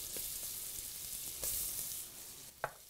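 Garlic and onion sizzling in a very hot cast-iron dutch oven, a steady soft frying hiss with a few faint pops and a brief clink near the end.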